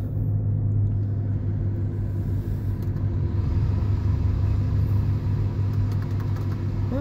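Buick Enclave SUV engine while driving, a steady low rumble with a continuous drone that holds evenly throughout, close and fairly loud with no voices over it.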